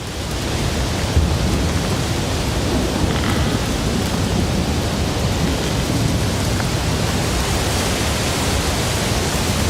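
A subtropical thunderstorm pours heavy rain, a dense, unbroken hiss of downpour with low rumbling underneath, loud and steady for the whole stretch with no voices.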